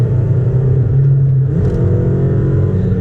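Inside a 2004 Nissan Sentra SE-R Spec V, the engine drones steadily, then its pitch jumps about halfway through as the car drops into fourth gear, followed by a busier, higher rumble.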